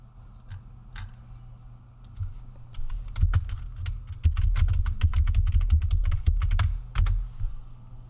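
Loud computer keyboard being typed on rapidly, a dense run of sharp clacking keystrokes that grows busier and louder after the first few seconds, close to the microphone with no talking.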